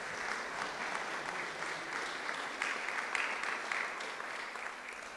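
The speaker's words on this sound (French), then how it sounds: "Franchement, ils font du bon boulot, on peut les applaudir." An audience at the opening of a town cultural season in Hirson, France applauds its cultural and technical teams, dense steady clapping that swells slightly midway, heard at a distance.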